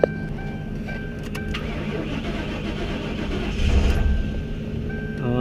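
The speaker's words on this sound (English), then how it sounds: "We're gonna try to start this baby up." A car engine turns over steadily as it is cranked without catching, a continuous close mechanical whir that grows slightly louder near the end.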